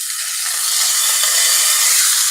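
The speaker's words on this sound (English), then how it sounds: "you can hear it sizzling" A steady, loud hiss of chicken sizzling on low heat in a covered pan, close and continuous with no pauses.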